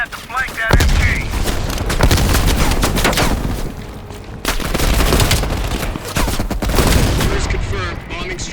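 Bursts of machine gun fire crackle in Call of Duty Black Ops Cold War, rapid rattling volleys coming again and again across the stretch, loud and close, with booms mixed in and a voice talking over parts of it.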